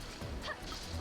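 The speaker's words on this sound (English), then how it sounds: "I hear barking tiny pups from downstairs." Tiny pups barking from downstairs, a couple of quick faint yips and woofs heard at a distance under a quiet room, brief and soft.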